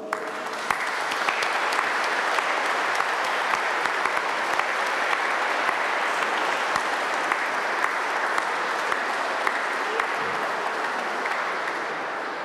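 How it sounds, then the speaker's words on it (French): A church congregation at the Assumption Mass applauds in a long, sustained wash of clapping that stays even and full for over twelve seconds, with a few sharper claps popping out. "je vous invite à applaudir toutes les Maries"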